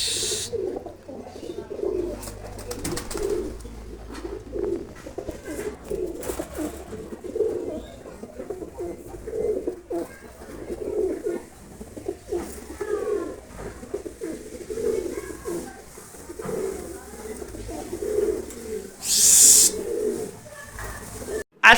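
A flock of pigeons coos steadily in a loft, overlapping low throaty calls rolling on continuously and close, with brief chirps and a voice occasionally in the background.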